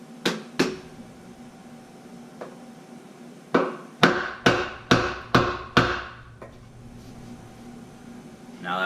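Sharp metallic hammer blows ring out as a stovepipe is hammered onto a deck fitting over rubber and wood, a few scattered strikes followed by a quick run of six evenly spaced hits, loud and close.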